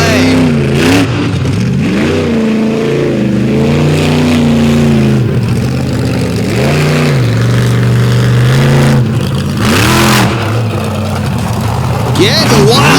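A Dodge monster truck at an outlaw drag event revs hard on dry clay, its engine loud and close, rising and falling in pitch through repeated throttle surges with brief louder bursts.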